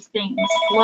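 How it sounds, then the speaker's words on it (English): A telephone rings in the background, its steady electronic tone blending with a person talking close by in a very brief moment. "my apologies for that ringing phone in the background"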